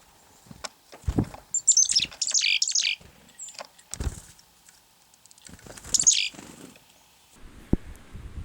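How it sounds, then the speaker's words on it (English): Chickadees and nuthatches call at a backyard feeder with woodpeckers nearby, giving bursts of high, close chirps and scratchy notes in irregular clusters, with a few soft thumps and wing flutters between calls. "the chickadees and nuthatches started coming in"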